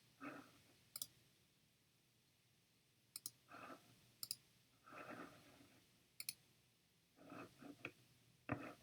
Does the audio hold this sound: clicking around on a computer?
yes